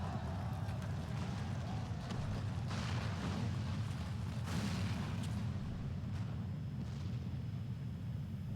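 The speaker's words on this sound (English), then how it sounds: "The main tower just collapsed. You heard it too, didn't you? It must have been the cannon" In Final Fantasy XIV, cannon fire and a tower collapsing in battle come through as a dense, continuous low rumble with booming surges and crashing debris that rise and fall, alongside faint distant battle noise.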